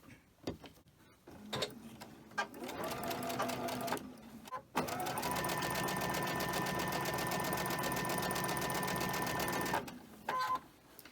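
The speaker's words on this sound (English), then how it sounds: "I'm going to sew them together." Sewing machine stitching fabric pieces together, close by: a few short bursts of rapid mechanical chatter, then one long, steady run of stitching before it stops, ending with a brief final burst.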